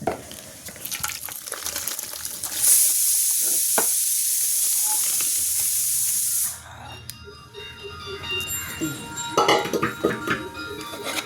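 Boiled beef and bone curry pours onto cooked tapioca with a loud hissing, steaming rush, which cuts off abruptly; wet scraping and stirring sounds follow as the two are mixed together close up.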